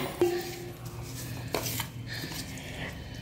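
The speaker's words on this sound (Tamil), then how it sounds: "ஒரு இவ்வளவு சாப்பாடு போட்டு அந்த வேப்பம்பூ வறுத்ததையும் போட்டு கலக்கறாங்க" Cooked rice being stirred together with fried neem flowers in an iron kadai, a metal spoon clinking and scraping against the pan in a few quick strokes with soft rubbing between, close by.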